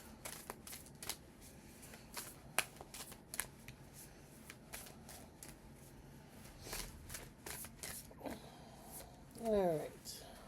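Healing Spirit oracle cards by Gordon Smith are shuffled by hand in a continuous soft papery riffle with occasional sharper snaps, close and fairly quiet, with a faint voice in the background.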